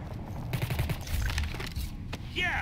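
Rapid automatic gunfire in Ballistic Overkill, a PC shooter, rattles in dense bursts with a closing ricochet-like whine, loud and continuous.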